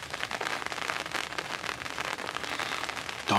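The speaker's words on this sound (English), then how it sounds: "Getting a little rain." Light rain patters and crackles steadily on a surface, a soft continuous hiss of drops with no talking.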